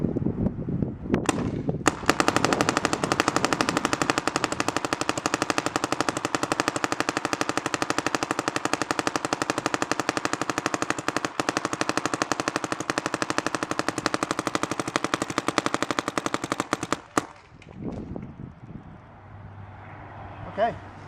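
A Pinokio Speed214 paintball marker fires a long, dense rapid burst of sharp pops for about fifteen seconds, loud and close, then stops abruptly, followed by a few faint handling sounds and a brief voice.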